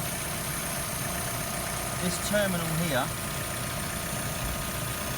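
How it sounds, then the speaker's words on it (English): A Vauxhall Zafira engine, with a hot battery terminal and a bad earth, idling as an even low rumble beneath someone speaking close by. "when the engine's running"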